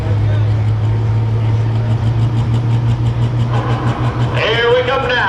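Turbo pro stock pulling tractor at an evening tractor pull in Henry, Illinois, its engine droning steadily and loud, then a rising turbo whine near the end, with an announcer talking over it.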